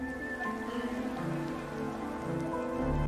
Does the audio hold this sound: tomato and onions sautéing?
no